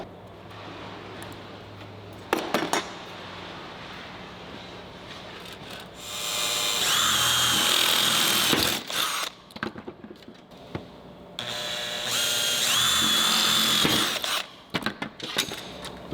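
Drilling into trim on a 1951 Mercury with sharp bits: two long, loud, close whining drill runs with brief bursts and pauses between them.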